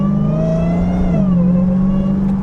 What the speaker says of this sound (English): the best thing about the supercharger is how much you can enjoy it at low speeds